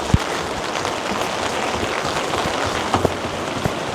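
A heavy rainstorm at a hot spring in Japan makes a loud, constant hiss of rain hitting surfaces, broken by a few sharper splats and knocks. No one speaks.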